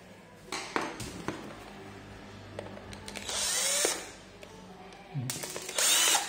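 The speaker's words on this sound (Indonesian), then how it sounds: "biar cepat pakai bor ya, bor milik saya ini" A cordless electric drill whirs in two short bursts, high and buzzing, between clicks and clatter of tools being handled while repairing a digital multimeter.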